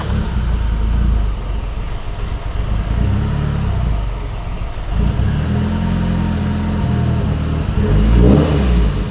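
A Mitsubishi Lancer Evo 8 engine runs loud and close, holding a steady rumble before a rev rises near the end, with no voices.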